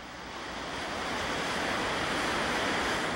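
Ocean surf crashes below the cliffs of the Palos Verdes Peninsula, a steady, full wash of breaking waves that swells slightly louder over a few seconds, with no voices.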